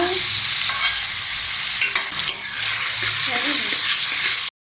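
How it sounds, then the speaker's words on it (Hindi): Onions sizzle and crackle steadily in a hot karahi pan while a utensil scrapes and stirs through them, close up and continuous. "इसे हम 1 मिनट के लिए हल्का सा फ्राई करेंगे, इसे ब्राउन नहीं होने देना।"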